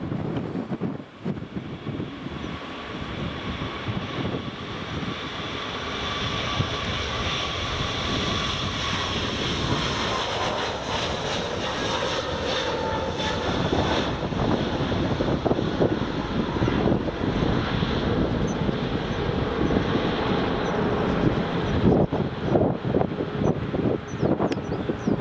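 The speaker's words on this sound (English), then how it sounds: "A321neo taking off." An Airbus A321neo takes off from runway 24 at Edinburgh Airport, its engine roar building into a sustained, broadband rumble that swells and then fades, with wind buffeting the microphone throughout.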